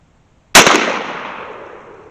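A low-velocity homemade shotgun slug fires once in a single sharp, loud blast, its echo trailing off over about a second and a half.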